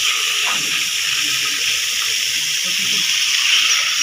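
Water is sprayed onto a swimming pool under construction during cleaning after waterproofing, a loud, steady hissing gush that continues unbroken throughout.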